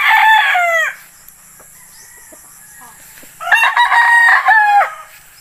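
A brood cock of the native Philippine breed crows twice, each call a loud, close, drawn-out cock-a-doodle-doo with a quiet gap between them and no talk.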